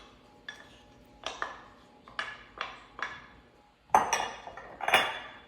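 A spoon scrapes and clinks against a bowl while rice, quinoa and ground turkey are stirred together, a series of sharp metallic taps in an irregular rhythm, close and fairly quiet with no talking.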